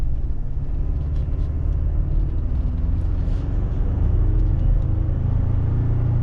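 Ford Ranger pickup with an EcoBoost engine accelerating, a loud, steady low engine rumble with road noise that holds throughout, heard from inside the cab with no talking.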